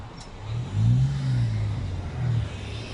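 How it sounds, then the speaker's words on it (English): Cars pull out of an air base gate and drive past close by, their engines swelling and easing in two or three waves of low rumbling, with no talking. "Wait for these vehicles to pass."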